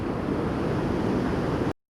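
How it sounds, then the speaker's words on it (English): Ocean waves roll in steadily as the tide comes in near a shallow river mouth, a loud continuous wash of surf with wind noise that cuts off abruptly near the end. "Wave action starting to pick up as tide's coming in."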